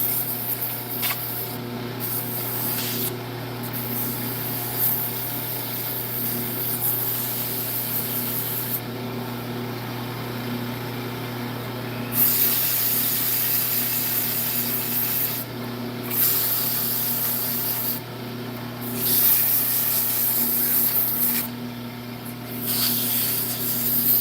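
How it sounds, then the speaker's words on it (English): Finer sandpaper held against a turned wooden yoyo spinning on a lathe makes a continuous close rubbing hiss over the steady motor hum, broken by brief pauses as the paper lifts. "I'm going to use a finer sandpaper, but I'm not going to do the inside"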